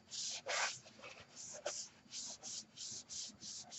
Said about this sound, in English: Then you start rubbing it gentle.